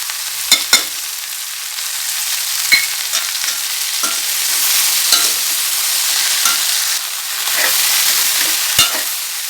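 Okra sizzles steadily in a hot pan while a utensil scrapes and clicks against it every few seconds, close up with no voices.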